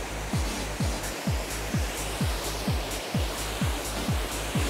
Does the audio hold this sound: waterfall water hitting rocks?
yes